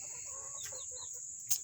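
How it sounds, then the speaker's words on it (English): Chickens clucking in short, scattered calls over a steady high-pitched background hum, with one brief louder squawk near the end; fairly quiet and no talking. "Chickens."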